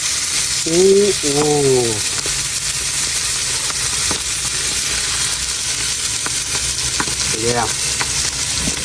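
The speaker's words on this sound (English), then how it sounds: "Salmon cooking right here." Salmon sizzles steadily in a pan on Kodiak Island, a loud close frying hiss that runs throughout, with brief voices reacting over it.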